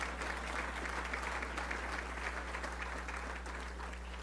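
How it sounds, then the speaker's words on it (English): An audience at a local event applauds the sponsors, including Simmons Bank, with steady, sustained clapping from many hands under a low hum, with no talk over it. "let's give a round of applause to Simmons Bank and all of our great sponsors"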